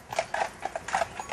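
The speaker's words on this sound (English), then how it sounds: "Brigitte Will shows visitors the sights from a horse-drawn carriage." A horse-drawn carriage on a sightseeing tour, hooves clip-clopping in a steady, even rhythm of about seven or eight clear strikes, fairly close and alone.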